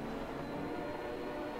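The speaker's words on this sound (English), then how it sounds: "Whoa, there's a train!" A train rumbles past in the Garry's Mod video game, producing a continuous, fairly loud low roar with no voices over it.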